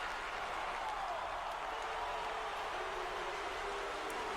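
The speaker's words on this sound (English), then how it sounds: "for the first few matches you will hear piped in crowd noise" Piped-in arena crowd noise in the WWE 2K20 wrestling video game, a steady, even wash of distant cheering and applause without peaks, fairly quiet throughout.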